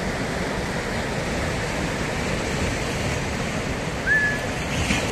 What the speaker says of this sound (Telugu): ఇక్కడ సముద్రపు అలలు అవి చేసే సౌండ్ చాలా బాగుంది.